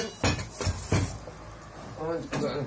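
A metal frying pan clanks and clatters onto a stove a few times in quick succession, close by, with faint background noise.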